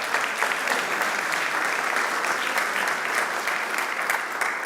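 A church congregation applauding, a sustained wash of many hands clapping at even loudness throughout, fairly close, with faint voices underneath.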